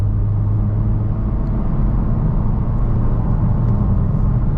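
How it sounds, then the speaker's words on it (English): Steady low rumble and whir from inside a 2023 Honda Civic Type R on its quiet stock exhaust, driving at night in the UK, with an even, continuous drone and no talk. "getting rid of this stock exhaust because it's too quiet"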